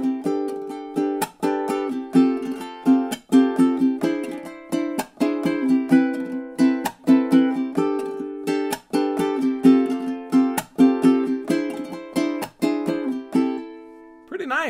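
Strummed guitar chords in a flamenco rumba pattern, with rhythmic percussive chucks and quick sweeps keeping a steady, driving pulse, played close and alone, ending on a ringing final chord.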